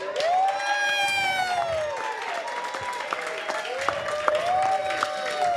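Church congregation cheering, whooping and clapping at a city council meeting in Carson, California, a loud sustained burst of applause with raised voices and shouts.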